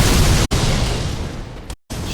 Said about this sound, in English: Shield can even block explosions.